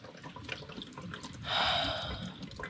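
Water runs in a steady rush, as if poured or trickling nearby in a jungle survival camp in Panama, starting halfway through after faint background noise, with no talking.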